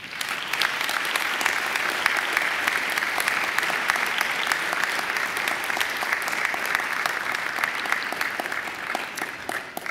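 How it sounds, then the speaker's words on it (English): Graduates at a Macquarie University ceremony giving a mighty round of applause to family and friends, dense continuous clapping from a big crowd filling the hall, even and sustained for the whole stretch. "I urge you to give them a mighty round of applause."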